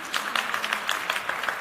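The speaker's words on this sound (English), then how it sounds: "Round of applause" An audience claps steadily through a round of applause at a FIFA diversity event, a dense, moderately loud patter of many hands with no pause.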